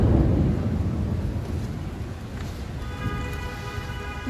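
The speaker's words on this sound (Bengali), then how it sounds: "যদিও অল্প অল্প বৃষ্টি হচ্ছে, এই যে গাছে বৃষ্টি দেখা যাচ্ছে" Light rain falls on trees and flowers outside a house as a storm approaches, a steady close hiss over a low rumbling wash with no voices.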